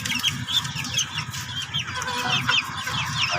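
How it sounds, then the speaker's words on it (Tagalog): Feather-footed Chinese chickens kept in a cage cluck steadily and overlapping, close and fairly loud, with no talk over them. "Chinese chicken daw yan"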